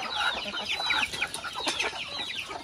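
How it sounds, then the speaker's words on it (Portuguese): A flock of chickens on a rural farm cluck busily and close by, with overlapping short, choppy calls throughout. "Olha essas galinhas."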